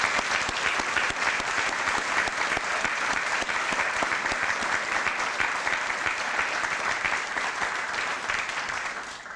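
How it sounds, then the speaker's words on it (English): A ceremony crowd gives steady applause in honor of the U.S. Marshal Service at an anniversary event for the Judiciary Act; the dense clapping holds evenly and then tapers off at the end. "I now clap, as did everyone here"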